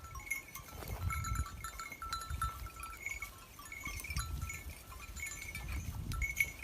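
Sheep on a Turkish sheep farm bleat repeatedly at close to moderate distance, with overlapping calls over a shuffling, rustling flock background and occasional bell-like clinks.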